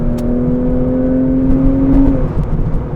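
A Porsche 996 911 engine with an aero kit revs hard above 4,000 RPM, a loud, close, sustained whining drone that holds steady for about two seconds and then eases off.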